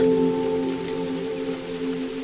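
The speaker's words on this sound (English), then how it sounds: "Rain continues." Steady rain falls in a dense, even hiss, with a low sustained drone running beneath it throughout.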